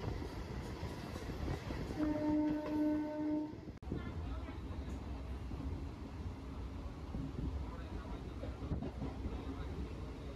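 A passenger train runs along the track with a continuous loud rumble and rattle, a sustained horn-like tone briefly sounding early on, then steady rolling noise with faint voices mixed in.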